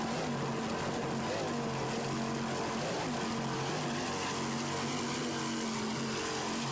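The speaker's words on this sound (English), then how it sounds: "Listen to those two 600-horsepower Bandit inboards." Twin 600-horsepower Bandit inboard engines on a racing powerboat at the 1993 Islamorada offshore race, a loud, steady roar with no letup and no talk.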